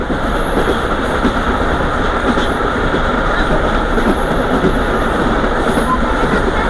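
A passenger train runs at speed on rails near Khulna, producing a loud, continuous rumble with a steady wheel clatter, close and unbroken for the whole stretch.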